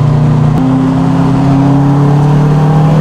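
A right-hand-drive Honda Civic Type R accelerates hard, its loud, close engine giving a strong humming drone that shifts in pitch early on and then climbs steadily for about three seconds.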